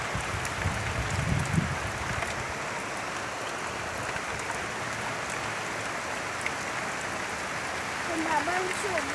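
Steady rain falls in a continuous, even hiss on surfaces nearby, holding at a constant level throughout with a few faint voices and small sounds in the background.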